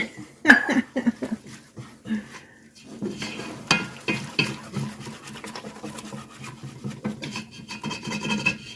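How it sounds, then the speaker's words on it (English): A whisk scrapes and rasps steadily against a pan as flour is stirred into a white sauce being cooked, with irregular clinks and rubbing strokes running throughout at close range. "We're going to whisk it while we're putting it in."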